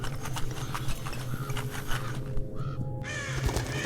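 Crows caw repeatedly in the Dark Parables puzzle game, harsh calls over a mechanical ratcheting and gear-turning background that runs steadily throughout, with a brief dropout near the end before the clatter resumes.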